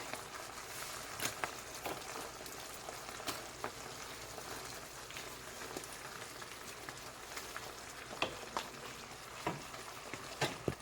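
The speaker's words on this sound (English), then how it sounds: "So I'm gonna mix it into the sauce." Pasta being stirred into a jerk shrimp sauce in a pan, a steady sizzle like light rain with occasional soft clicks and scrapes of a utensil, fairly quiet throughout.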